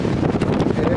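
Wind gusts buffet the microphone outdoors, a loud, rough rumble that surges and fades in quick waves over one second, with no speech heard.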